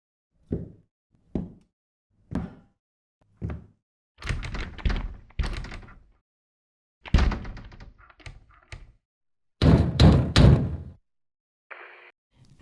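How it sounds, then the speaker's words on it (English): Knocking on a door in a zombie-survival roleplay: repeated hard thunks come in spaced groups, loud and close, with no talk over them. "Knock, knock. Anybody home?"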